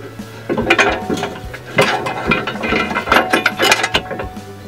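Bolts being fastened on a Mitsubishi Pajero 4x4 skid plate under the chassis, heard as a series of close, clicking ratchet strokes in irregular bursts with metallic clinks between them, alone without talk.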